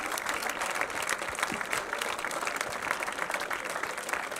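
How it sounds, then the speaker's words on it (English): Crowd at a EuRoC 2025 rocket launch event applauding the team after a scrubbed flight, a steady wash of clapping from many hands at a moderate distance. "Everyone here is clapping for the Dare team."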